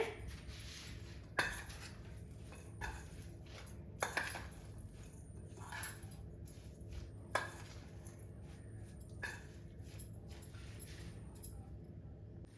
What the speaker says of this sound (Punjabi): ਹੁਣ ਇਹਨਾਂ ਸਾਰੀਆਂ ਚੀਜ਼ਾਂ ਨੂੰ ਪਹਿਲਾਂ ਇੱਕ ਵਾਰੀ ਚੰਗੀ ਤਰ੍ਹਾਂ ਮਿਕਸ ਕਰ ਲੈਣਾ